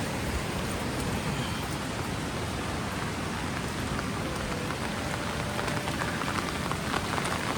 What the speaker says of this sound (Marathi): पाऊस खूप लागता ना